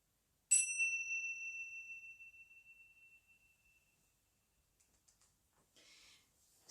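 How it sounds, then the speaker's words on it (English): A single meditation bell is struck once, ringing out clear and bright, then decays slowly into near silence, followed by faint soft rustles and a light breathy noise near the end. "I will ring the bells at the start and the finish for you"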